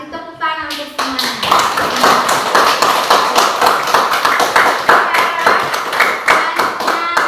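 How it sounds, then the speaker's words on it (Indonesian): Classroom clapping for all the student groups, many sharp close hand claps in a quick, fairly regular rhythm that begin after a short moment and continue steadily, loud and near. "Berarti tepuk tangan untuk semuanya."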